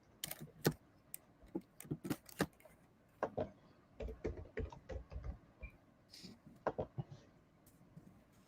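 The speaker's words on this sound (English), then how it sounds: "I'm just typing, guys." Fingers tap on a computer keyboard in quick irregular bursts with short pauses, quiet and close.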